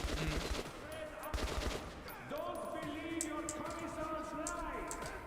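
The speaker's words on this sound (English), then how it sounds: "That's the bullets hitting their armor." Gunfire and bullets striking enemy armor in the video game Metro 2033 Redux, rapid bursts with metallic tinks, under a speaking voice.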